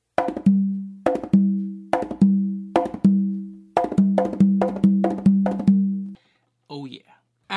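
Conga drums play a combination at a fast, sped-up tempo, with sharp slaps and ringing open tones in a quick repeating pattern up close, ending with a brief voice.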